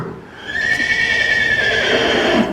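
A horse whinnies loudly while being ridden during a saddle training session, one long sustained neigh with a wavering tone lasting about two seconds, close and clear with no talking.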